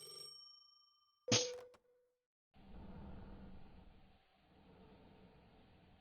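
A telephone rings in Poppy Playtime, a single sharp bright ring after a faint tone, followed by low steady rumbling ambience.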